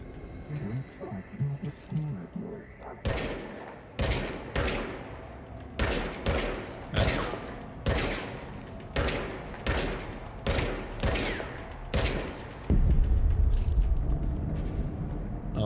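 Rapid bursts of weapon fire from a strange gun in the action game Control, a dozen sharp loud shots in an uneven rhythm, ending in a heavy rumbling blast.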